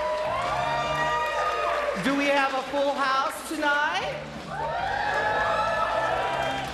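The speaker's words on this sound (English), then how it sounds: "That sounds like a crowd" Live audience at a drag show cheering, whooping and clapping in a loud, continuous swell, with the hostess speaking over the crowd noise near the start.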